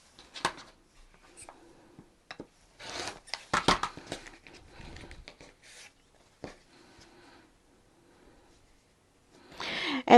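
Scissors snip through a quilting charm pack square, a few short crisp cuts and fabric rustles close by in a quiet room, with brief pauses between.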